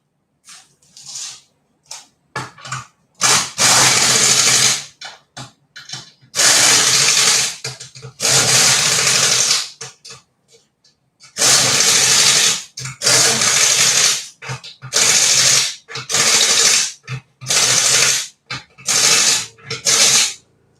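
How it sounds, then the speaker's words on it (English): A Cobalt pneumatic impact gun fed by an air compressor fires in repeated loud bursts of hissing air and rattle, some short and some lasting a second or two, with brief pauses between. "And I'm using a Cobalt impact gun"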